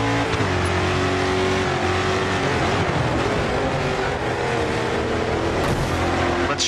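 Race car engine in the video game Grid 2, a World Series Racing event in California, roaring loud and steady throughout with revving and shifting tones, no talk.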